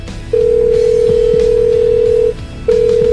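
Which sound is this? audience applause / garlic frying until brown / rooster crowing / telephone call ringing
telephone call ringing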